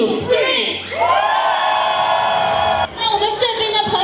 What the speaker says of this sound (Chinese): 希望你们的掌声和欢呼声能达到三千人的效果